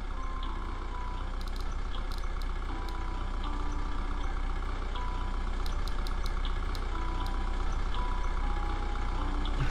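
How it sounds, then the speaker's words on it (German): A vehicle engine idles at a drive-through window in The Closing Shift video game, a steady low rumble running throughout at moderate level with faint intermittent beeps above it. "Sie können auch ihren Motor, ne, mal ausstellen."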